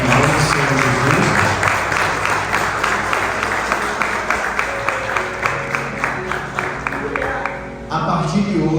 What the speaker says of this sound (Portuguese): deu uma salva de palmas